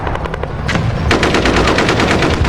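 Staged war gunfire effect for a historical battle narration, loud sustained bursts of rapid machine-gun fire, close and dense, with no voices over it.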